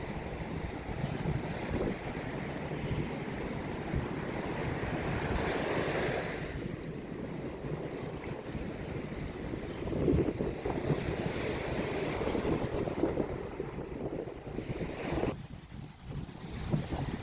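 Ocean waves wash onto a Hawaii beach near Kahala, a steady soft surf rumble with gentle swells and light wind buffeting the microphone, heard alone at moderate distance.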